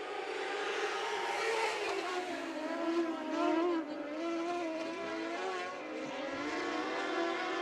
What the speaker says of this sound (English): SCDCA Dwarf cars are going green.